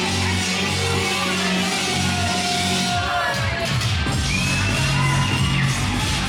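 A wrestling crowd at an indoor show cheers and yells in a dense, continuous roar, with scattered shouts and whoops rising over the steady noise.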